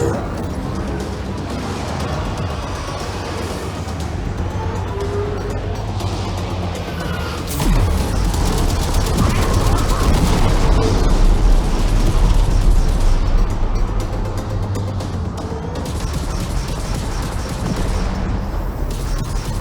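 Railjack ship gunfire and explosions in the Warframe video game: a dense, loud, continuous barrage of rapid shots and booming blasts with mechanical whirring throughout, swelling heavier partway through, with faint voices mixed in.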